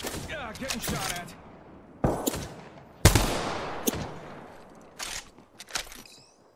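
Sharp bursts of gunfire in Apex Legends come in separate cracks and short volleys with decaying tails, spaced irregularly over several seconds, some louder and closer than others, with a voice talking in between.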